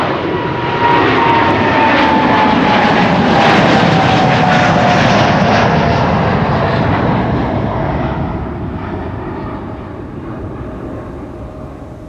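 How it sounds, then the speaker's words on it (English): A KLM airliner bound for Chicago O'Hare departs Amsterdam Schiphol, its engines roaring loud and broad with a steady whine, holding strong before easing slightly as it climbs away. "KLM flight 611 to Chicago O'Hare"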